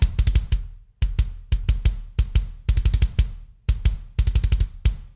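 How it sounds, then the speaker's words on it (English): A metal kick drum from the free Cream Drums Kontakt library plays alone in fast clusters of punchy, tight hits, with short gaps between rapid double-kick bursts. "The kick basically sounds like this."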